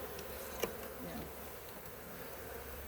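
Many honeybees hum at an open hive during an inspection, a low, continuous drone close by, with faint rustling and one brief tap partway through.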